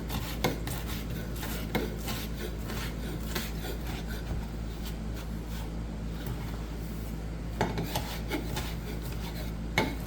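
A knife chops cooled bacon finely on a cutting board for a breakfast burrito, making steady rasping, scraping strokes with sharper knocks at irregular intervals, close and fairly quiet throughout.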